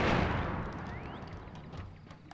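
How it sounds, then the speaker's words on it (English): TNT crates blowing up in the Crash Bandicoot video game: a loud, booming blast at the start that rumbles and slowly fades, with a faint whistling tone partway through. "Explosions."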